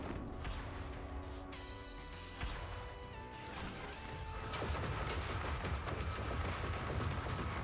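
Rapid video game gunfire aimed at an alien spaceship, a dense run of sharp shots and blasts layered over busy game sounds and music, growing heavier toward the end.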